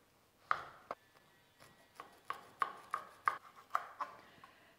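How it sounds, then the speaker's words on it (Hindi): A knife chops through jackfruit on a cutting board in repeated crisp taps, about ten irregular strokes, close and fairly quiet with no voices. "तो यहाँ पे इस तरीके से हम इसे काट लेंगे"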